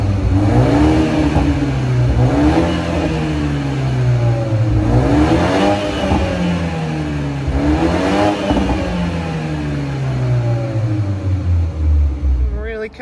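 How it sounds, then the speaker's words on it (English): A BMW 330i engine revs repeatedly in a parking garage, loud, echoing surges each climbing and falling back, with an enclosed reverberant sound and faint talk. "I think we're gonna go do some quick revs for you"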